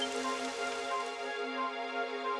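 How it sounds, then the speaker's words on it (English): Rain falls in the video game Dragon Quest XI, a soft continuous patter layered under a sustained tonal game music drone that fades slightly toward the end, with no talking. "It would have to go and start raining, wouldn't it?"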